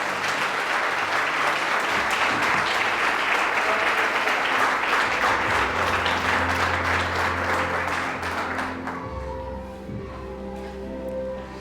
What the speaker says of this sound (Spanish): Vamos, aplauda al Rey de Reyes y Señor de Señores.